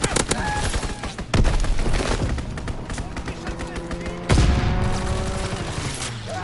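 Rapid bursts of aircraft machine-gun fire from a strafing warplane in a World War II video game, loud and close, repeating in rattling volleys with sharp onset blasts and ringing tails.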